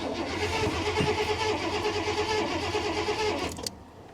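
An old, long-sitting car at a salvage yard cranks on a nearly dead booster pack: one loud, steady cranking stretch of about three and a half seconds that cuts off without the engine catching.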